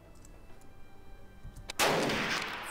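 A single loud gunshot in the tactical game Jagged Alliance 2 cracks suddenly after quiet ambience and rings out with a long noisy decay.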